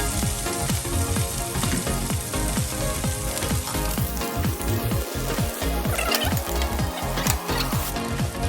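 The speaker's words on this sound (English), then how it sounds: "just go ahead and put the chili oil and everything in there now. And then you mix everything." Chili oil and other ingredients sizzling and frying loudly in a pan while being stirred together, a dense continuous crackle with repeated scraping stir strokes throughout.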